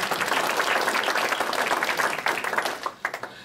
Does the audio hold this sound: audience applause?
yes